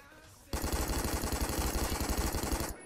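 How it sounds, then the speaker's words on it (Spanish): Rapid automatic gunfire from an enemy in the Roblox game Phantom Forces: a loud, continuous burst of closely spaced shots that starts abruptly and runs for about two seconds before cutting off. "Me está disparando como una loca por ahí."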